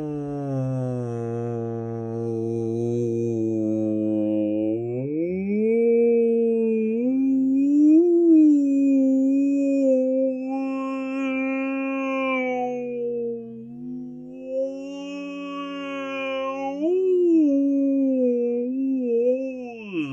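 A human voice imitates a whale call in a long, loud, wavering moan that slides up and down in pitch for about twenty seconds without a break.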